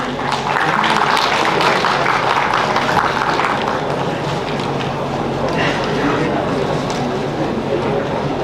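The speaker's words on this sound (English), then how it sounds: "Let's welcome them with a huge round of applause." A large audience at an entrepreneurship summit claps steadily and loudly for speakers coming on stage, a dense, continuous wash of applause lasting throughout without pause.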